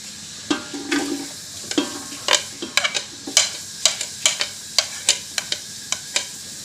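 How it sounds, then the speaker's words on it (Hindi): Onions frying in oil in a pot, a continuous bright sizzle punctuated by a rapid series of sharp spatula scrapes and taps, close and fairly loud. "सबसे पहले हम पतीला रखेंगे और इसमें ऑयल डालेंगे। इसके बाद हम इसमें प्याज डालेंगे।"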